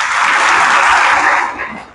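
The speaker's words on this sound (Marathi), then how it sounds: "स्वतःसाठी एकदा टाळ्या वाजवा." Audience applause at a felicitation ceremony in Baramati for an IPS officer from a shepherd family, a dense sustained clatter of many clapping hands that holds steady, then thins and fades toward the end.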